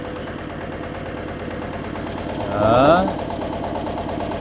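A walk-behind power tiller engine chugs steadily with a rapid, even putter while the machine drives along a road, close and continuous, with a brief louder swell midway and someone speaking briefly at the start.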